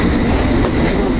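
London Underground tube train rumbling along the tracks, a loud continuous roar with rattling carriage noise heard from inside, no voices.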